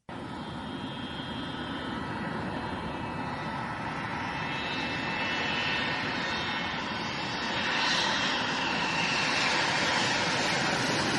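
A McDonnell Douglas MD-80 jet airliner roars through its takeoff, a loud, steady broadband rumble with a high whine that builds slightly toward the end, continuous and alone with no voices.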